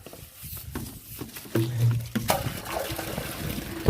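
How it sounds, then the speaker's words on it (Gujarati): Water flows and splashes into an underground storage tank basin, a close trickling rush that starts faint and grows fuller and steadier midway, with a few clunks and a brief low tone. "પાણી આવી ગયું,"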